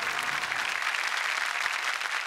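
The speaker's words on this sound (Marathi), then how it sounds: "याच सिनेमाचे निर्माते महेश येवले यांच्यासाठी सुद्धा जोरदार टाळ्या" Audience applause at a Marathi comedy show, a dense, even burst of many hands clapping for the film's producers, loud and close throughout.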